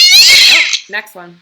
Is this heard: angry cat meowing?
yes